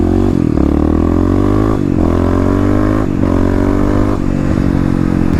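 Kawasaki KLX351 EFI dirt bike engine running loud and close, with a steady throaty drone broken by repeated throttle blips and revs that rise and fall every second or so.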